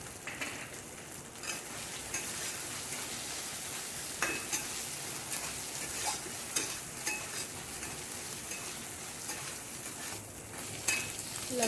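Steady hissing sizzle of cashews and raisins frying in hot oil with ginger and chilli, continuous and close, with occasional stirring clinks and scrapes throughout.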